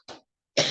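A woman teacher gives two short, sharp coughs close to the microphone, separated by a brief silence.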